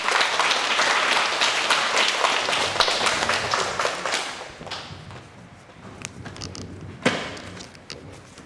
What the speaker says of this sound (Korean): 한번 축하 박수 주세요